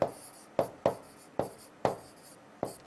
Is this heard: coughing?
no